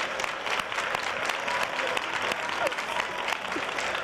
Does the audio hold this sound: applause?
yes